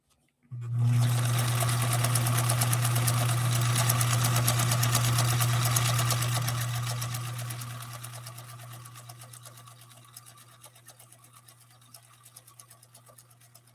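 A sewing machine stitches a test seam at a very short stitch length, humming loud and steady for several seconds before winding down and fading.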